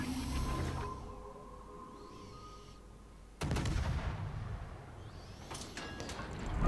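Ship guns in World of Warships boom out, a loud blast cutting in midway and leaving a long rumbling tail over the ongoing background of the battle.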